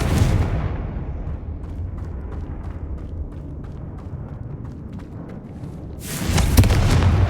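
A Confringo blasting spell goes off in the Hogwarts Legacy video game, a loud burst with a low rumbling tail near the start, then a second heavy explosion near the end.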